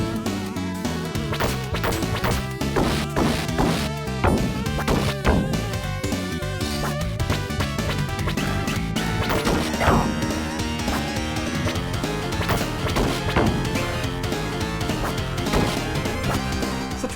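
Music and sound effects from the Teenage Mutant Ninja Turtles game on a Sega Genesis Mini: a dense, busy chiptune soundtrack with repeated punchy hits and crashes layered throughout at steady volume.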